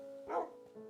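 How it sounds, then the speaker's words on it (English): A single short bark from a dog in the game Minecraft, faint and brief over a quiet game background. "Why are there dogs here, not on a taiga?"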